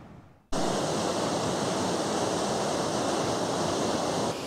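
Waterfall at Ecola State Park on the Oregon coast: a steady, loud broadband roar of falling water that starts abruptly and holds constant to the end, with no voices.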